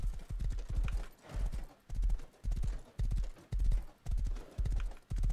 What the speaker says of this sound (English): There's a random horse there.